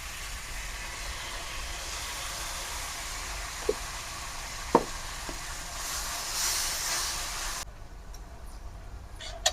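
Tomato paste frying in a pan after garlic paste, a steady soft sizzle running throughout with a few brief clinks of a utensil, close and moderately loud.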